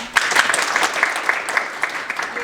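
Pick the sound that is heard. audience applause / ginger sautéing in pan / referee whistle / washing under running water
audience applause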